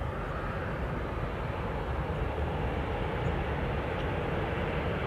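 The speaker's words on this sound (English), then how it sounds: "Alright, Encore Dash 8, just heading over Lake Country." An Encore Dash 8 turboprop airliner passing over Lake Country on approach to Kelowna International Airport in British Columbia produces a steady, dense engine drone and rumble that holds without a break.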